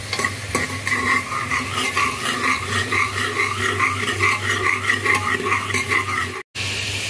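Turmeric stirred in a frying pan for kadhi: a continuous sizzle with rhythmic scraping strokes of a spoon against the pan, close and steady throughout.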